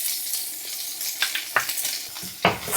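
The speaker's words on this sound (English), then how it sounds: "Fry this for about 30 seconds so that the garlic have a chance to release the flavor and aroma." Minced garlic frying in butter in a hot pan after chicken was cooked, a steady close sizzle with a few sharp stirring scrapes.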